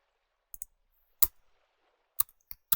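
A few sharp, isolated clicks of keys pressed on a computer keyboard to enter the Control F shortcut, spaced irregularly and quiet in an otherwise silent room.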